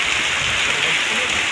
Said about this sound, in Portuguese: Olha que chuva arretada.